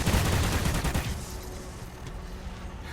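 Gunfire in a video game's Extinction mode, a dense rapid burst that is loud at first and then eases into quieter scattered shots.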